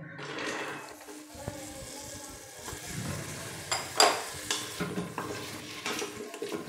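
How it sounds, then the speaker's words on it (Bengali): A spoon stirs chicken momo filling with bones, a little meat, carrots and peas in a pan, giving a soft sizzle with scraping and clinks of utensil against metal, fairly quiet throughout. "একটু ভালো করে নাড়বো।"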